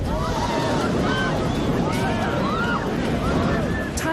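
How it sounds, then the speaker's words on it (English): Loud, churning ocean surf crashes and rushes continuously at a surfing contest, a wave sweeping spectators off a ledge, with wind buffeting the microphone and faint shouts mixed into the roar of water. "Another angle shows the wave wiping people off a ledge."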